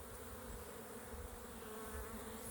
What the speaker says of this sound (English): this nook was super full of bees